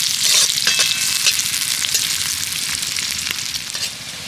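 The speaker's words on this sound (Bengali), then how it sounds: "এবার আমি ওই তেলের মধ্যে দিয়ে দেব পেঁয়াজ কুচি।" Chopped onions sizzle in hot oil, a steady loud frying hiss with faint crackles and a few stirring scrapes throughout, no voices.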